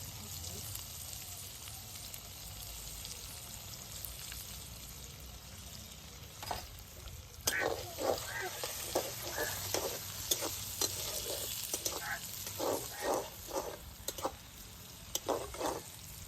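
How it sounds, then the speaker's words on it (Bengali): Chopped onion frying in hot oil with a spice tempering for an egg and onion curry: a constant close sizzle, joined about halfway by rhythmic scraping stirs of a spatula in the pan. "পেঁয়াজটা কিন্তু লাল লাল করে ভাজতে হবে।"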